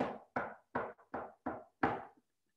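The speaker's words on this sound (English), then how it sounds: "there came a knock at the cottage door." Six firm knocks on a cottage door, evenly spaced with short gaps, close and clear with a slight ring after each blow, then silence.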